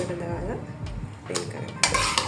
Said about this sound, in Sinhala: දැන් මම මේ ප්‍රෙෂර් කුකර් එක හොඳට නිවිලා තියෙන්නේ. මම ඒක දැන් මේ විදිහට ඇරලා බලනවා.